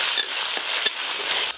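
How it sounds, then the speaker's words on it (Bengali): Onions fry with ginger-garlic paste in a pan, a loud, close, continuous sizzle with a couple of brief stirring scrapes. "পেঁয়াজ তো ভাজা ভাজা হয়ে গেছে, এবার আদা রসুন বাটা দেবো"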